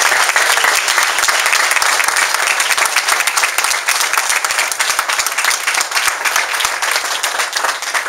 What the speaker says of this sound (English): But let's give her a warm round of applause and have Cindy come up.